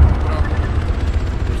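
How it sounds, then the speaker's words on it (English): An enemy helicopter flies overhead in a military video game set in a Chernarus civil war, its loud low rotor thumping and engine rumble droning steadily and close throughout. "That is an enemy helicopter,"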